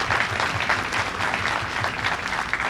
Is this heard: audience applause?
yes